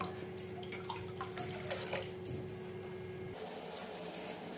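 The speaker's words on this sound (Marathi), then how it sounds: "बघा आता आपल्या ह्या रश्श्याला छान अशी खळखळून उकळी आलेली आहे" Marathwada-style dumpling amti with black spice masala bubbles vigorously in a pot, giving a steady close-up rolling boil with spattering pops throughout, softening slightly toward the end.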